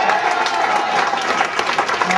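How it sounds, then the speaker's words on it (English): A crowd at a football team's celebration for an undefeated season claps and cheers in a steady, dense wash of applause, loud and close, with voices mixed into the noise. "You guys can cheer about that."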